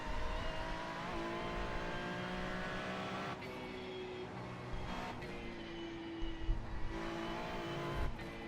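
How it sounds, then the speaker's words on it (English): Race car engine droning steadily in a racing video game set at the Nürburgring 24, BMW or Ferrari, with front tires sliding and squealing in sustained tonal streaks over the continuous motor noise, close and loud. "Hear those front tires sliding."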